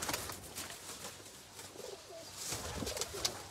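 Taddy pigeons cooing softly in a loft, low throaty coos repeating over a steady background hiss, fairly faint and without voices.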